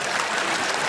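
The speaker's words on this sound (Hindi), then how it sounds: "एक बार तालियां बजा दीजिए" An audience at a Hindi comedy poetry gathering in Delhi claps in a dense, even burst of applause, steady throughout and unbroken by any voice.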